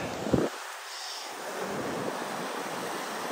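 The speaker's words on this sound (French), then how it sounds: "Ah, les gars, le vent." Outdoor wind blowing as a steady broadband whoosh after a short buffeting bump at the start, continuous and moderately loud.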